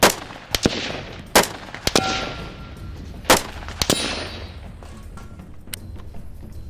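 M203 grenade launcher firing live rounds at popper targets on a range, a few sharp outdoor reports with thumping impacts and echoing tails, spaced irregularly and moderately loud.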